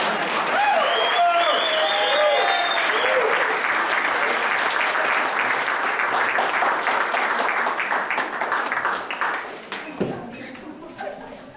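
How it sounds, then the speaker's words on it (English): A church congregation applauds the music team during a service, a dense, sustained wash of clapping that runs for about ten seconds before tapering off, with faint music or voices audible early on. "So now you can applaud the music team and the love."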